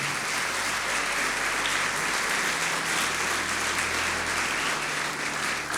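A church congregation applauds steadily and loudly throughout, a dense wash of many hands clapping at once during a worship celebration service, with no voices standing out.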